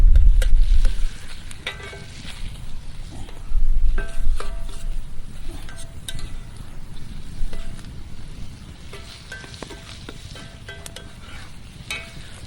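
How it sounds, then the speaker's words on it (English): A ketchup and steak sauce mixture is stirred in a pan at a wilderness campsite, quiet bubbling and scraping utensil clicks over low wind rumble, no talking. "And then we're just going to mix that all up together, stir it around."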